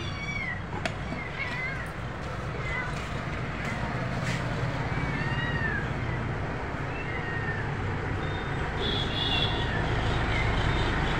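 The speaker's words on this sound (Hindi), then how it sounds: "बिल्ली गेट खुलने पर बाहर रह गई थी और अब ये बच्चों का इंतजार कर रही थी" A cat meows outside a shop while waiting for her kittens, with several short meows over steady traffic noise and background chatter, and a voice talking throughout.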